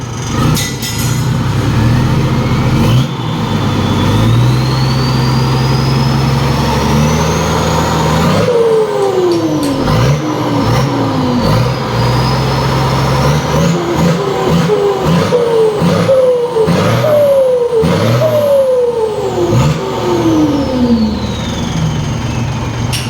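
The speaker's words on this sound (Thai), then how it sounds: "อ่าเดี๋ยวลองเร่งเครื่องดูครับ" A large engine revs repeatedly, rising and falling in pitch through a series of loud accelerations, close and continuous over a steady idle.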